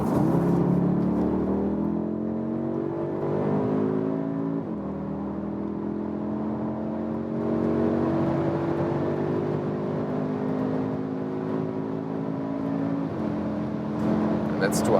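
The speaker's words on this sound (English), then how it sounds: "Let me start at 80 kilometers an hour and see how is the acceleration when we are already at speed" An Audi SQ2 in dynamic mode accelerating hard from 80 km/h, its engine note rising steadily in pitch, dropping at gear changes, then climbing again under continuous road and wind noise heard from inside the cabin.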